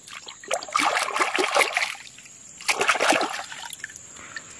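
A muddy toy motocross bike is washed in a container of clean water, with two bursts of splashing and sloshing close up, separated by a brief quieter pause.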